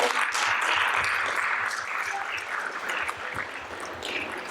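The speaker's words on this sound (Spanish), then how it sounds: "Un aplauso, por favor." An audience at a conference on inclusion claps through an award presentation, a steady round of applause that starts full and gradually thins and softens toward the end.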